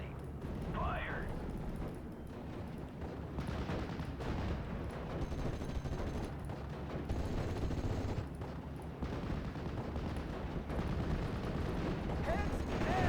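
A rifle platoon fires a volley in the WWII strategy game Steel Division: Normandy 44, a dense rolling crackle of gunfire and distant battle rumble that stays loud and continuous across the whole stretch.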